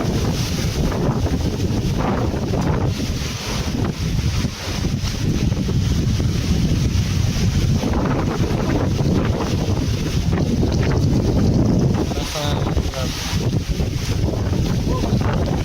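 Strong typhoon wind roaring and buffeting against the microphone outdoors during heavy rain, a loud continuous rushing with gusty surges and rattling, with people talking at times under the noise.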